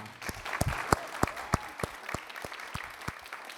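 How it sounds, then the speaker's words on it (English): Thinning applause from a conference audience after a housing panel, with scattered individual claps ringing out sharply and fading into sparse, separate hand claps. "Can we give a round of applause again for that powerful"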